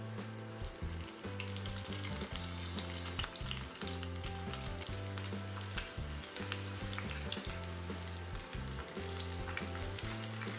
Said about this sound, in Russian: И обжариваем их до румяной корочки под накрытой крышкой примерно 5 минут.